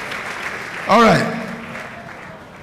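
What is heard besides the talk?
audience applause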